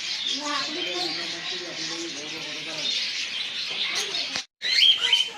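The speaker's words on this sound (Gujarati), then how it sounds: "આ પોપટ સારા" Parrots chirp and squawk in shrill bursts close by, mixed with a murmuring voice, then a brief dropout before louder chirps return.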